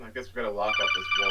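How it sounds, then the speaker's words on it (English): A phone text message alert chimes in a bright, tonal burst right after someone speaks, sounding near and over his voice's fading end. "That was a phone."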